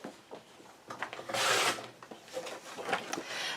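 Paper being cut on a trimmer for an 8 x 8 cottage garden scrapbook album: scattered scraping and sliding strokes building to one longer rasping cut, close and fairly quiet.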